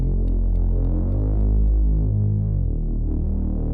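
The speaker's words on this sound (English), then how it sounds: "This time a different reese bass." Thick, throbbing reese bass sustains through a hyperpop beat, its detuned low drone wobbling and pulsing steadily, loud and upfront with faint percussive ticks above.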